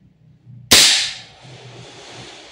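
VFC BCM MCMR MK2 airsoft gas blowback rifle fires one sharp, loud crack up close, followed by a hissing gas tail that fades over a second.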